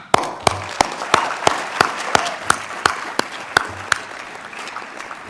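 Applause at a university commencement ceremony, a spread-out crowd clapping in a large hall with a few sharp, distinct claps standing out rhythmically above the softer background clapping, no speech.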